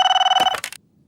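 A telephone rings with a fast trilling bell, loud and close, then cuts off abruptly as it is picked up.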